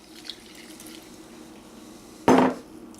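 A single short splash of water poured from a measuring cup into a bowl for homemade pizza dough, a sudden burst lasting under half a second against a quiet kitchen background.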